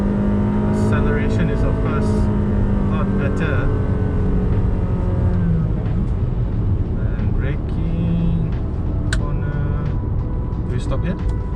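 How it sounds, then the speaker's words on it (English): A Honda City Hatchback accelerates from inside the cabin, its engine note rising under road and wind noise while people talk throughout. "So this is where we try the acceleration. Lots of noises"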